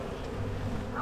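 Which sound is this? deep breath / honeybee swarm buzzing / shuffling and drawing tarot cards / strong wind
honeybee swarm buzzing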